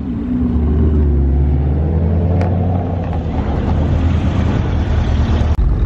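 An orange Ford Shelby GT500 drives into a parking lot at a car meet, giving a deep, loud engine rumble that swells and then eases slowly. The sound stays strong throughout and ends with a brief sharp knock.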